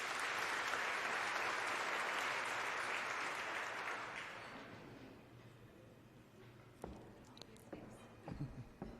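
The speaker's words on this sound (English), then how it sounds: "Please give her a round of applause." An audience at the Western Cape Prestige Agri Awards gives sustained, dense applause for an arriving speaker, loud and steady for about four seconds before tapering into scattered claps and room noise.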